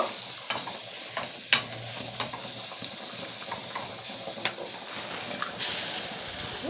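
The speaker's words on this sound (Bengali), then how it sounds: "লবণ আর হলুদ দিয়ে আবারও ভালো করে পেঁয়াজটাকে একটু নাড়াচাড়া করে নেব।" Onions with turmeric and salt are stirred in a hot pan: a steady oily sizzle runs throughout, broken by scattered sharp spatula scrapes and taps against the pan.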